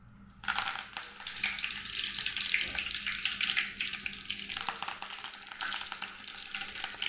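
Curry leaves hit hot oil and fry with a sudden loud sizzle that continues as a steady, crackling hiss, close by and uninterrupted.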